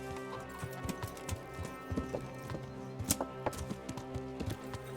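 Horse hooves clip-clop at an irregular, brisk pace in the Kingdom Come Deliverance video game, close and fairly quiet, set against faint steady game music.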